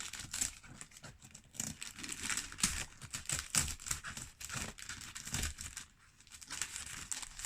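Paper packaging crinkles and tears as an envelope from a parcel is opened, a steady stream of close, dry rustling and crackling with brief sharper rips and no talking.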